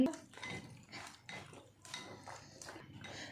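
Soy sauce, chili sauce and white vinegar are stirred together for chicken chow mein, with a spoon scraping and clinking against a bowl in repeated quiet strokes.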